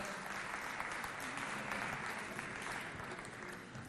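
Applause fills a television variety show hall in Chad for a midwife from a reproductive health association, a faint but sustained, even patter of many hands clapping with no break.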